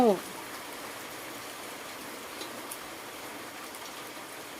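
Steady storm rain patters and hisses on surfaces, a continuous wash of drops with a faint trickle beneath.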